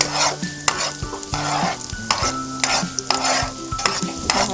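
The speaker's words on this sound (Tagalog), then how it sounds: "gigisahin na natin ang ating bawang" Chopped garlic sautéing in plentiful cooking oil in a pan, a steady sizzle broken by regular scraping and clinking strokes of a spoon stirring it, close and continuous.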